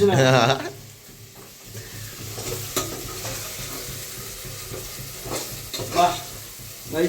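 Onions frying in a home kitchen pan, stirred with steady scraping strokes over a continuous close sizzle, with a few louder clatters of the spoon against the pan.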